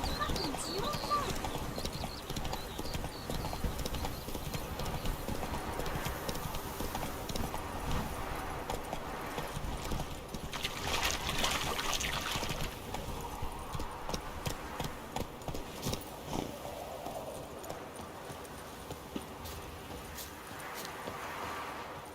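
Horse hooves clip-clop at a steady riding rhythm in The Witcher 3: Wild Hunt, a continuous close trot heard under occasional talk and game ambience.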